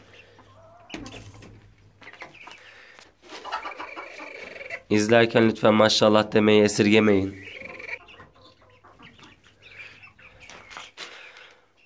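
Two-and-a-half-month-old blue Ameraucana chicks peep and chirp softly in the background while a person speaks clearly over them for a stretch in the middle.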